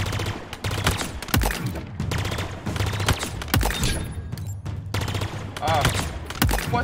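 Rapid gunfire from a firearm on a video game shooting range, shot after shot in quick bursts with sharp repeated cracks and brief pauses, loud and close, with a voice talking over it.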